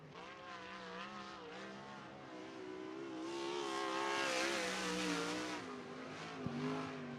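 A 360 sprint car at Cottage Grove Speedway roars through a qualifying lap, its engine note climbing and swelling loud as it passes close, then easing off with a brief sharp tick near the end.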